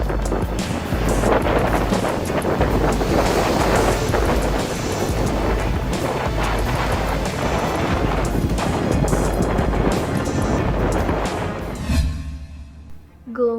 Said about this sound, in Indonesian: Gelombang raksasa.